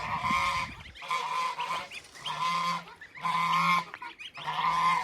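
A greylag goose honks repeatedly and loudly nearby, a series of about five harsh, nasal calls with short gaps between them.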